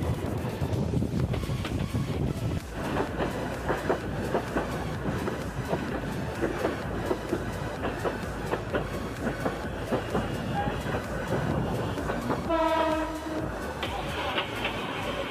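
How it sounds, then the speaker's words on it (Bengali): A passenger train entering Bonarpara railway junction, heard from on board, runs with continuous rumble and clickety-clack over the rails, wind buffeting the microphone, and a brief tonal whistle or horn near the end. "আমাদের ট্রেনটি এখন বোনারপাড়া জংশনে প্রবেশ করছে।"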